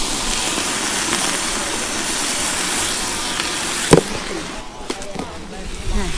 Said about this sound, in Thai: แล้วเราก็ผัด ผัดให้สุกค่ะ